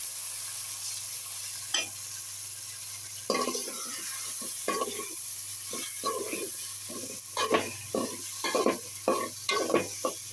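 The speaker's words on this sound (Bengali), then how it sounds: "এখন এই যে আমি গোছই মাছ দিয়ে দিচ্ছি।" Gosoi fish goes into hot mustard oil and sizzles with intermittent stirring bursts and scraping, steady frying hiss underneath, no talking.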